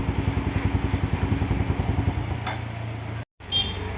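A Yamaha Jupiter Z1 motorcycle engine idles with a steady pulsing clatter close by, then is switched off and dies away, leaving a brief silence and a faint click.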